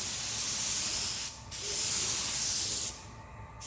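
Spray gun applying paint in steady bursts of close, loud hiss, two long passes broken by brief pauses, with no voices.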